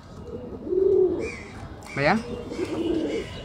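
Pigeons coo in low rolling phrases amid a bustling bird market, with a sharp chirp-like call in the middle and people talking nearby.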